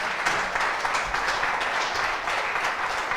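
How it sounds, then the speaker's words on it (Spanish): Church congregation applauding during a sermon, a thick continuous wash of clapping from many people, steady and fairly loud from start to finish. "Dale fuerte ese aplauso a Dios"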